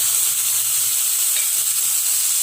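Chopped tomato frying with softened onion in a pan while making pizza sauce, a steady soft sizzle throughout with no voices.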